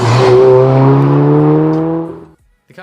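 A JDM sports wagon fitted with an HKS intake and a 3-inch Apexi catback exhaust gives a single loud, close rev whose deep harmonic drone holds for about two seconds and then cuts off sharply.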